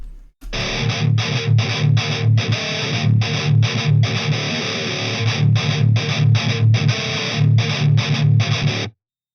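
Distorted electric guitar through a Mesa-style amp simulation with a screamer pedal in front, playing a loud, palm-muted riff of choppy rhythmic bursts and short gaps for about eight seconds before cutting off abruptly.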